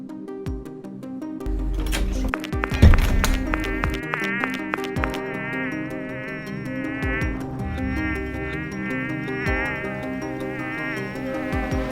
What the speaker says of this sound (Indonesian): Hus, pergi kamu lalat, ganggu aja.